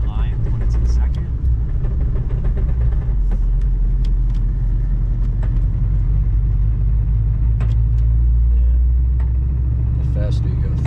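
A Ford Mustang with a damaged transmission drives along, giving a steady, loud low rumble of engine and drivetrain inside the car that stays constant throughout.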